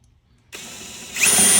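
Power drill starts abruptly and spins a Kawasaki KZ305 motorcycle tachometer cable, a steady close whir that jumps to a louder, higher whine as the drill speeds up.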